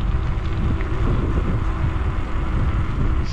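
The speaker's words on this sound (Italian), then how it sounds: "Vento, vento, vento, ovviamente contrario" Strong wind buffeting the microphone, a loud, constant roar of low rumbling gusts with no voices.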